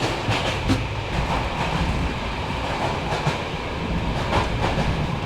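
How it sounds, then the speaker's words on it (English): A passenger train runs on rails from Sofia to Bucharest, heard from inside the carriage as a loud, continuous rumble with faint rhythmic clacks over the track joints. "this train from Sofia continues to Bucharest"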